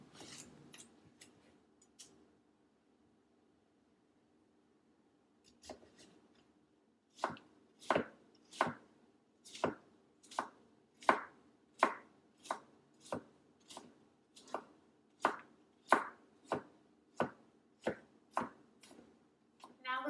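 Zucchini being chopped for a vegetable stir fry: a few quick knife taps, a pause, then a steady run of about twenty sharp, evenly spaced cuts on a board, close and alone.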